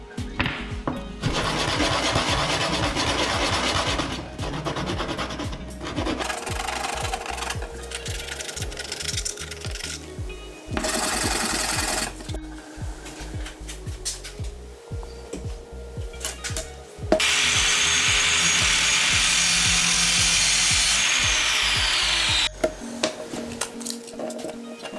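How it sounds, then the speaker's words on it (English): Sandpaper rubs the ends of a wooden dowel in loud, close bursts of abrasive scraping, separated by quieter gaps and some handling noise. "You're just gonna sand down the ends to make sure there's no splinters"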